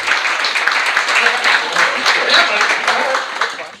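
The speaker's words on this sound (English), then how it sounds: "Y'all give him a round of applause." An audience at an awards-event gathering gives a steady round of applause for guests, with crowd clapping blended with voices and cheering throughout.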